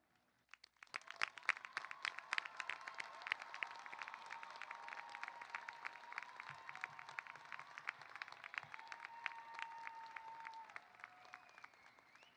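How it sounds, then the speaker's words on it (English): A quiet pause breaks into crisp, sustained applause at a 2025 CSUN commencement as graduates with honors rise, with many distinct claps and a faint tone and rustle beneath. "I ask those graduating with academic and other special honors to please rise if you are able and receive our applause."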